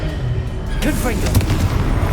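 A booming Confringo explosive-curse blast in the Hogwarts Legacy video game, loud and close, rising out of a steady bed of in-game combat noise with a few sharp hits.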